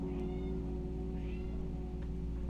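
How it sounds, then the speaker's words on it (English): Domestic cats meow faintly in the background of a quiet indoor room, a few short cries scattered over a low steady hum. "you can hear my cats in the background"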